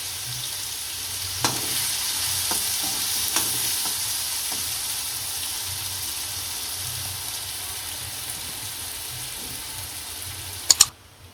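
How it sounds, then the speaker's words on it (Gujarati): Crushed onions with cumin and asafoetida frying in hot oil, a constant loud sizzle with soft stirring scrapes and a couple of sharp clinks near the end. "આની અંદર જીરું નાખીશું, હિંગ નાખીશું, આ ક્રશ કરેલા કાંદા નાખશું."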